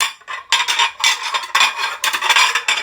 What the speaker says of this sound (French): tu fais plus de bruit que moi avec la vaisselle